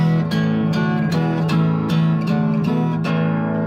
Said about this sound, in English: These chords though, the A, the D, and the E sound like this.